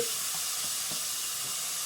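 Continuous crackling sizzle of bacon frying in a pan, a dense hiss with small pops, close and steady, no voices.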